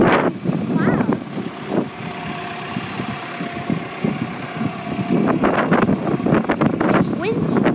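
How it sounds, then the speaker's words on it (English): Wind buffets the microphone outdoors in gusty rumbling bursts under dark stormy skies at night near a rail station, with traffic or engine noise mixed into the steady blowing. "It's windy."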